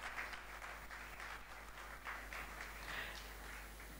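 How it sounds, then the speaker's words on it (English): An audience claps steadily at a TV show, a soft, even wash of applause heard from a distance without any pauses. "A big round of applause."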